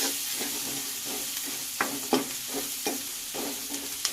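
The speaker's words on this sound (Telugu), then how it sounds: "కొంచెం గోల్డెన్ కలర్ వచ్చే వరకు వేయించుకోవాలి" Mutton curry frying in a pan, Telangana style, with steady sizzling and a few sharp scraping stirs of a spoon across the bottom, close up and alone with no voices.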